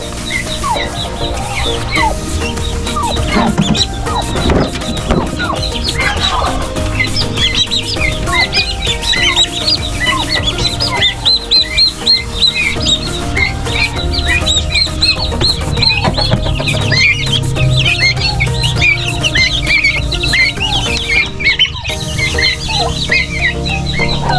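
A backyard hen with her chicks clucks near and clear, soft repeated clucks mixed with many thin peeping chirps from the chicks, continuing steadily throughout with no talking.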